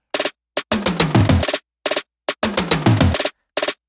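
A chopped drum fill sample, pitch-transposed, fires in short stuttering bursts with brief gaps, a few quick hits then two longer dense runs, for a K-pop R&B and soul beat.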